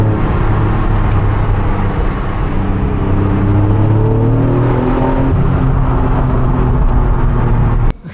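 Naturally aspirated Honda NSX engine accelerating on a test drive, a loud, close, continuous engine note rising steadily in pitch under throttle, then cutting off abruptly at the end.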